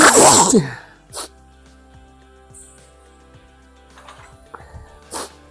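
A single loud sneeze bursts out at the start, followed by quiet room sounds with a few faint sniffs and small clicks.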